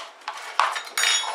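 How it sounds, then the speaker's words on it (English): A whisk beats eggs in a bowl for chocolate cupcake batter, giving a few quick bursts of clinking and scraping against the bowl's sides, close and moderately loud, with no voices. "You want to beat your eggs? Beat my eggs."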